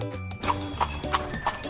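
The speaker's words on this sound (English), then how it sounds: "horse cart," Horse hooves pulling a cart clip-clop in an even, steady rhythm, four distinct clops about a third of a second apart over a low tonal backdrop.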